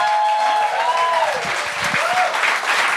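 Sustained applause from a TV talent show studio audience, dense and steady throughout, with a host's voice rising over the clapping partway through.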